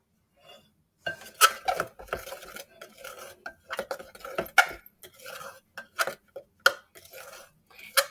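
A spoon stirs half a cup of cornstarch with two-thirds of a cup of water in a bowl, making irregular close-up clinks, scrapes and taps against the bowl's sides, with no one speaking.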